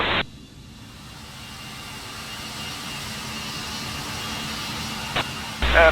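Jet engines of an American Airlines A319 spool up during a takeoff roll at DFW before a rejected takeoff with a compressor stall, a steady loud roar throughout with brief radio clicks at the start and end.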